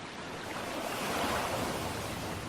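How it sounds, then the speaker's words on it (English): Wind-driven waves on a wide lake basin surge over sandbanks at the western shore, a steady broadband wash of surf and wind without breaks, fairly close and continuous. "As waves hit the western edge, they surge over the sandbanks."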